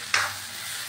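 A spoon gives a single quick scrape through a corn upma mixture in a pan on low heat, and a soft sizzle continues beneath it.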